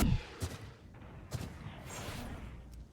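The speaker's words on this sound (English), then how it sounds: "Flashbang." A flashbang grenade goes off in a first-person shooter match, with a few sharp bursts and booms against a busy game backdrop; a faint voice is heard at times.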